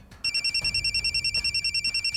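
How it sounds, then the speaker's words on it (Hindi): A telephone rings with a rapid, repeating electronic trill in even bursts, fairly close and clear, with no talking. "देखो देखो, उठाओ मेरे इमरान का फोन।"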